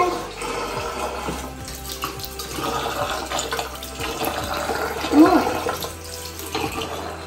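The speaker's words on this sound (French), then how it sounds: "On peut rincer mon visage." Tap water running steadily as a face is rinsed at a bathroom sink during an evening routine, a continuous splashing wash with a brief louder splash near the middle.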